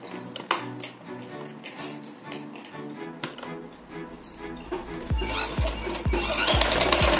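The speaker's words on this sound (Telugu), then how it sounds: "మూడు కలిపి ఈ విధంగా కుట్టుకుంటాను" A sewing machine stitches a black blouse with a shaping belt, its needle hammering in a fast, even rhythm that grows louder and closer toward the end, with a voice talking over the first part.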